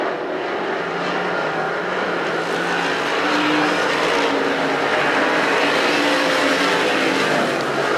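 Street stock race cars at Perris Auto Speedway roar past in a loud, dense, continuous engine drone that swells slightly as the pack runs through a corner, with no talk over it.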